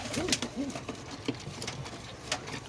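Pigeons of a small-beaked Chinese breed coo in a few soft, rolling bursts nearby, with a faint patter of movement and low background noise between the calls.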